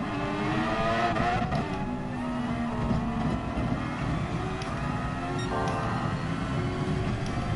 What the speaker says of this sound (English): Sounds like a jet engine taking off.